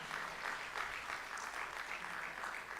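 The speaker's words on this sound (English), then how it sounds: "Please continue to give them a warm round of applause." Steady applause from an audience at a startup launch event for a green transition programme, a sustained wash of clapping hands at moderate loudness, continuous and unbroken with no voices over it.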